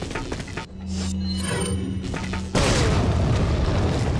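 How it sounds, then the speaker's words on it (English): A grenade blast in the 2005 video game Resident Evil 4 goes off as a sudden loud boom after a stretch of game ambience and tones, then a dense roaring rumble of debris and fire holds to the end. "I guess I could spare one grenade for this"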